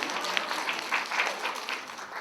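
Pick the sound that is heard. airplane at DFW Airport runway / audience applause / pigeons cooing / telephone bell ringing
audience applause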